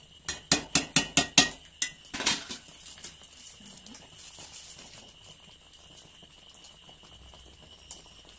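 A spoon strikes a cooking pot in a quick run of sharp metallic clanks, then settles into softer scraping and stirring knocks that fade into quiet, close by.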